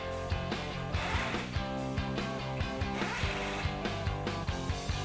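Huck360 bolts and lock nuts being installed in a timed comparison give a rapid run of clicking, ratcheting mechanical taps with a steady rhythm over a low hum, moderately loud and without talk.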